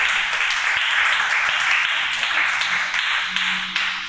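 A church congregation applauds together, a dense, sustained wash of many hands clapping that fills the space evenly, with a faint voice rising briefly in the background near the end.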